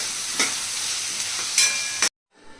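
Green chillies, bay leaves and onions fry in oil for a country chicken curry, giving a continuous bright sizzle with a few louder stirring scrapes, then an abrupt cut to near silence and a faint return.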